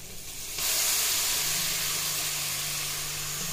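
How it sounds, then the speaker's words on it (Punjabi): Turmeric and chili hit hot oil for an aloo badi curry, bursting into a sudden loud sizzle after a quiet start, then holding a steady, close hiss of frying. "ਪਹਿਲਾਂ ਤੇਲ ਪਾ ਕੇ ਦੇਖੋ ਹਲਦੀ ਤੇ ਮਿਰਚ ਨੂੰ ਲਾਲ ਕਰ ਲਿਆ"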